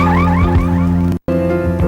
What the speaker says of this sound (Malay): Hanya tekan penggera dan bunyi bip akan mengarahkan anda ke kereta anda.